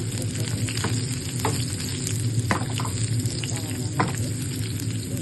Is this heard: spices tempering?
yes